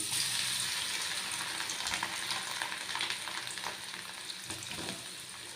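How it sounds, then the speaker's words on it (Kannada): Grated carrot hisses and crackles as it fries in hot oil, a steady, close sizzle with faint stirring and no voices. "ಎಣ್ಣೆ ಕಾದಿದೆ ನೋಡಿ ಕ್ಯಾರೆಟನ್ನು ನಾನು ತುರಿದು ಇಟ್ಕೊಂಡಿರೋ ಕ್ಯಾರೆಟ್ನ ಹಾಕ್ತಾಯಿದ್ದೀನಿ"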